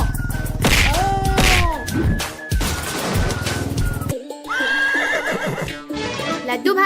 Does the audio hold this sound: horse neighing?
yes